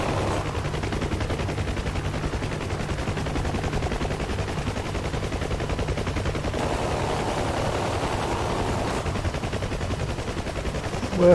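Helicopter guns fire in a flight simulator game, a rapid, unbroken stream of shots over a steady engine drone that runs for about eleven seconds.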